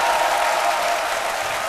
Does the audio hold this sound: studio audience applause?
yes